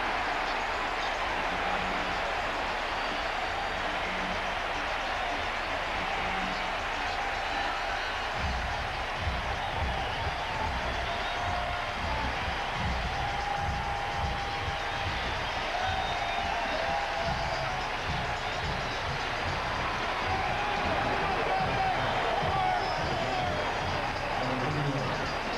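A baseball stadium crowd at a Yankees versus Mets game roars for a home run hit into deep right field, a broad sustained cheer that swells and lingers while a commentator talks over it.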